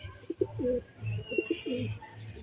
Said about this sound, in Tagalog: meron na tayong kalapate